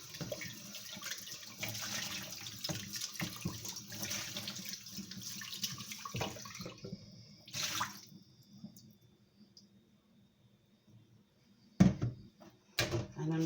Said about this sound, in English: Just giving my jug a quick rinse.